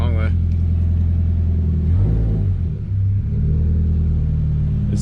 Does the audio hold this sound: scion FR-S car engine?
yes